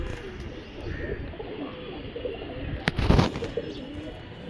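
Rajshahi Giribaz pigeons in a rooftop loft give soft, low cooing over steady background noise, with a brief louder burst of activity near the end.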